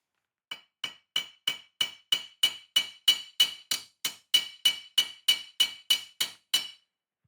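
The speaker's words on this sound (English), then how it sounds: "Let me get a little rounder hammer so it doesn't ding the sides as much." Metal is struck with a hammer in a workshop, about eighteen sharp, ringing blows in a steady, even rhythm, close and clear with nothing else heard.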